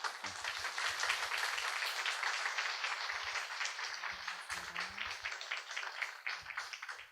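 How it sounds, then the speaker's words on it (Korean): A church congregation applauds to welcome a lecturer to an afternoon service. The clapping is dense, steady and moderately loud, holding for about seven seconds and thinning slightly toward the end, with no talk. "우리 강사님 나오시면 우리 박수로 환영해 주시기 바랍니다"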